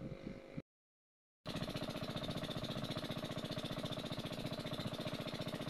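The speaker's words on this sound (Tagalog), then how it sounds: "salukuyan na po maandar yung bomba natin pampatubig" Engine-driven irrigation water pump running, a steady rapid thumping engine beat, close and continuous after a brief dropout near the start.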